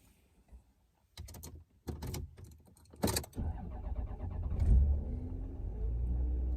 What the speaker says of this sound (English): take a listen to the ignition